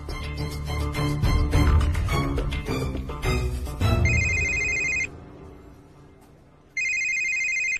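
A telephone ringtone chimes in two electronic bursts, loud and close, after a stretch of busy, tuneful background sound.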